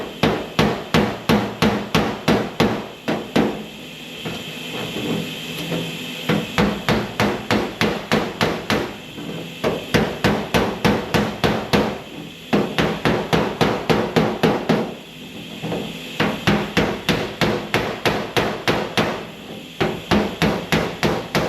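Hammer striking welds on the steel door skin of a 1974 Chevy square body pickup, a long run of rapid, sharp, ringing metallic blows in steady bursts with brief pauses, close and loud, no speech.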